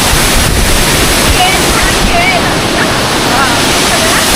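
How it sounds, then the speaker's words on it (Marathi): A hidden waterfall near Karjat and Bhivpuri roars as a loud, continuous wash of rushing water, mixed with gusts of wind buffeting the microphone and faint voices. "मित्रांनो बघू शकता धबधबा."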